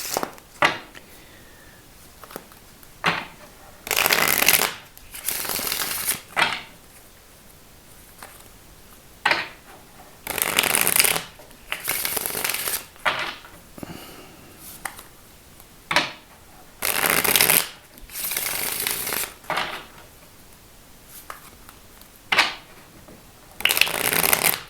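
Tarot cards shuffled by hand in repeated short riffling bursts, each a crisp papery flutter lasting about a second, separated by brief pauses, close and clear with no talking.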